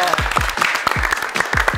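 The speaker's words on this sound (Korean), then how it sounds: "야 일단 두 팀 모두에게 박수." Applause for both futsal teams right after the final whistle of a match, a short burst of quick claps from a small group with voices mixed in throughout.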